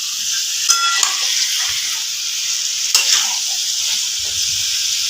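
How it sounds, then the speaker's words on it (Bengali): Marinated chicken fries in a hot pan with a loud, continuous sizzle and hiss while a spoon stirs it, adding a few sharp scrapes and clicks against the pan. "চিকেনটা এখানে কষা হবে।"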